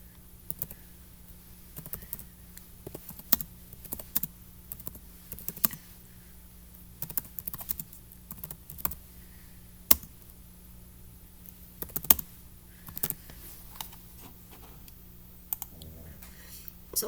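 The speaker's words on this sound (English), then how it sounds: "I'm going to click New Project." A computer mouse on a Mac gives scattered, faint, close clicks over a quiet room hum, with sparse taps and no talking in between.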